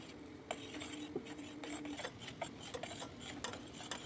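Tea leaves stirred into caramelised sugar in a pan, a steady close scraping and rasping of the spoon against the pan with repeated strokes, no voices.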